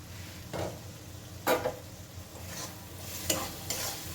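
Sizzling masala for an egg and potato dish being stirred in a pan over a steady frying hiss, with several bursts of spoon scraping at irregular intervals, close and clear.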